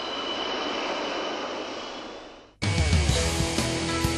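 A seaplane at an air show roars past with broadband engine noise that fades out, then a nearer, louder burst of engine and crowd noise cuts in abruptly.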